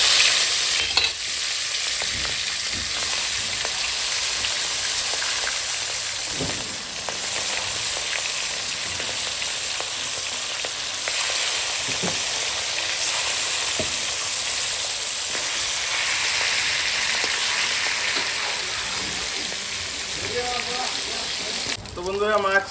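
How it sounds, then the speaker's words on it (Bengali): Fish frying in hot mustard oil in a wok, a steady dense sizzle and crackle running throughout at close range, with brief stirring knocks and a voice speaking near the end. "দিয়ে দিয়েছি সরিষার তেল মাছ ভাজার জন্য"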